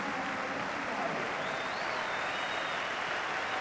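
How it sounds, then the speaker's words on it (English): Football crowd applauding a substituted player with a standing ovation, a dense, steady roar of clapping from a large stadium audience that holds throughout, with faint commentary underneath. "Huge applause and a standing ovation for Luciano Becchio"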